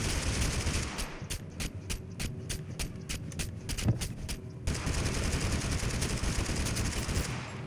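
Rapid bursts of AK rifle fire in the video game TABG, a string of sharp evenly spaced shots for the first half, then dense continuous crackling gunfire and action noise carrying on loudly to the end.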